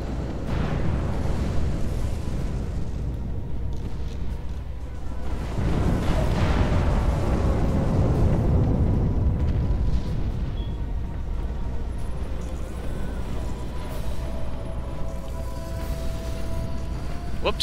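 A capital ship blows apart in the space strategy game Sins of a Solar Empire, a dense, sustained rumbling explosion that swells midway and lingers under continuous low battle noise, with a voice briefly heard.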